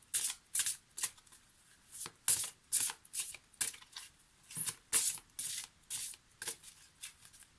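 Oracle cards from a forest-spirits deck being shuffled by hand: a quick run of crisp papery riffles and slaps in irregular bursts, close and fairly quiet, with no talking.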